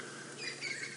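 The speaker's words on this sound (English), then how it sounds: "There's a cacophony of bird calls going on around us." Wild birds in the African bush chirp and call over a soft, steady ambient hiss, the brief high tweets layered and moderately faint.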